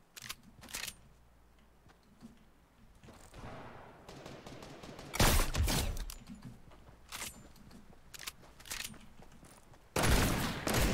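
Video game gunfire: loud, sharp bursts of shots come in several separate clusters, with quieter gaps between them.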